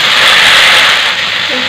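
A batch of leafy greens, rangalau (pumpkin) leaves, hits hot oil in a pan with browned aromatics, giving a loud, steady hiss that fills the whole stretch without a break, easing off a little toward the end.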